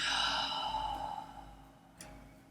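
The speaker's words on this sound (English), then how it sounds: "We're going to take one deep breath in" A single deep breath out, a long soft exhale during a gentle yoga flow, fading gradually and alone with no talk.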